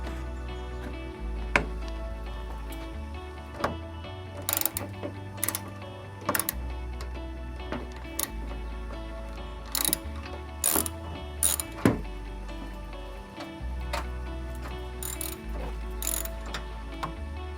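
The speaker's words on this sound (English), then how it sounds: "you'll end up getting your ratchet, your extension, and your 10mm socket" A hand ratchet with an extension and 10mm socket removes a headlight bolt on a GMC Sierra Denali, giving quick bursts of clicking pawl ratchets with pauses between, close and fairly quiet.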